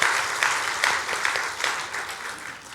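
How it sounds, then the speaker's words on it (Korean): A church congregation claps together during a Sunday service, giving steady, moderately distant applause that swells and fades over a few seconds. "우리 축하하고 감사하는 박수 하겠습니다."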